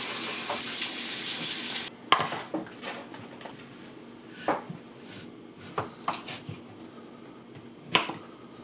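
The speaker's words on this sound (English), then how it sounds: "Wash and dry the zucchini, half lengthwise, then thinly slice crosswise." A knife slices zucchini crosswise into thin rounds on a cutting board, giving a string of irregular, crisp taps after a brief hiss at the start. The cuts sound close and moderately quiet.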